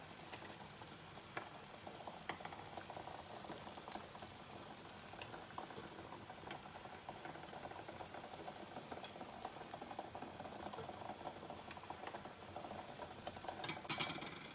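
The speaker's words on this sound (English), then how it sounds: "I'm going to gently lower my eggs into the boiling water" Water with eggs in it bubbles at a steady rolling boil in a pot, a soft continuous simmer with faint pops and a light clink near the end.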